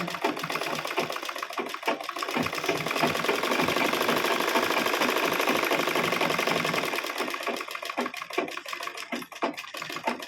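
A sewing machine stitches a blouse seam with a steady, close whirr and fast rhythmic clatter that runs almost without a break, slowing into separate stitches near the end.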